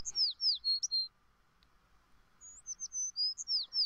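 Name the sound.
birds chirping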